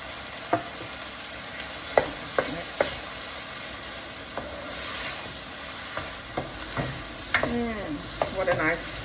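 Mushroom karahi frying in a pan as dried fenugreek leaves are stirred in: a soft, steady sizzle with scattered spoon scrapes and clinks against the pan, close by and fairly quiet.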